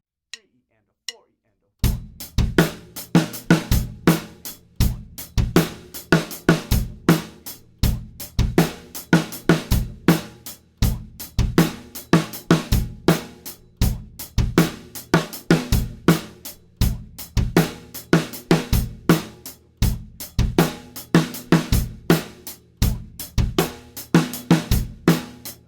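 Drum kit plays a sped-up beat mixing eighth and sixteenth notes, with kick, snare and hi-hat hits in a tight, steady repeating pattern, loud and close after a brief opening count-in.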